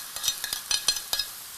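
Pad thai noodles with shrimp, tofu, bean sprouts and egg are tossed in a pan, giving quick rhythmic scraping and sizzling strokes, about six close, crisp bursts.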